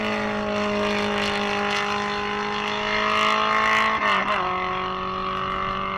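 H Production race cars at the 2024 SCCA National Championship Runoffs: a sustained, loud engine drone with a steady pitch, briefly dipping as a car shifts or passes near the end, continuous and alone with no talk.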